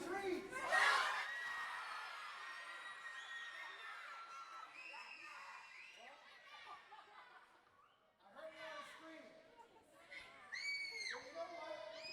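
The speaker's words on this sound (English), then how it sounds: "yell out as loud as you can what your goal and dreams are" A crowd of children at a school assembly with NHL alumni shouts out their goals and dreams all at once, a loud burst of overlapping yelling that fades into scattered chatter and renewed cheering.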